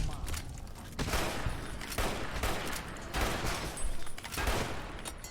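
Gunfire from the video game Fallout New Vegas, with repeated loud, sharp bursts of shots at roughly one-second intervals filling the clip and a voice talking faintly underneath.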